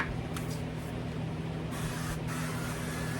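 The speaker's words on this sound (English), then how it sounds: "I'm gonna go ahead and spray this real quick" A few short hisses of cooking spray from an aerosol can onto a casserole dish, close by, over a steady low background hum.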